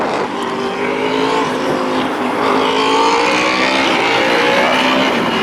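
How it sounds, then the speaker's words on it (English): A loud, steady motorcycle engine roar with rising harmonic pitch sweeps, building slightly in volume over several seconds on a city boulevard, with no voices. "The motorcycle seems to get louder and louder the farther away he goes."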